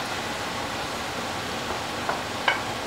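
Pork stir-fry sizzling steadily in a pan, with a soft, continuous frying hiss and a couple of faint clinks from stirring near the end.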